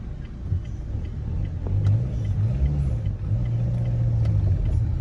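Evening road traffic with several cars passing, heard as a steady, moderately loud rumble of engines and tires that swells and fades as vehicles go by, with no voices.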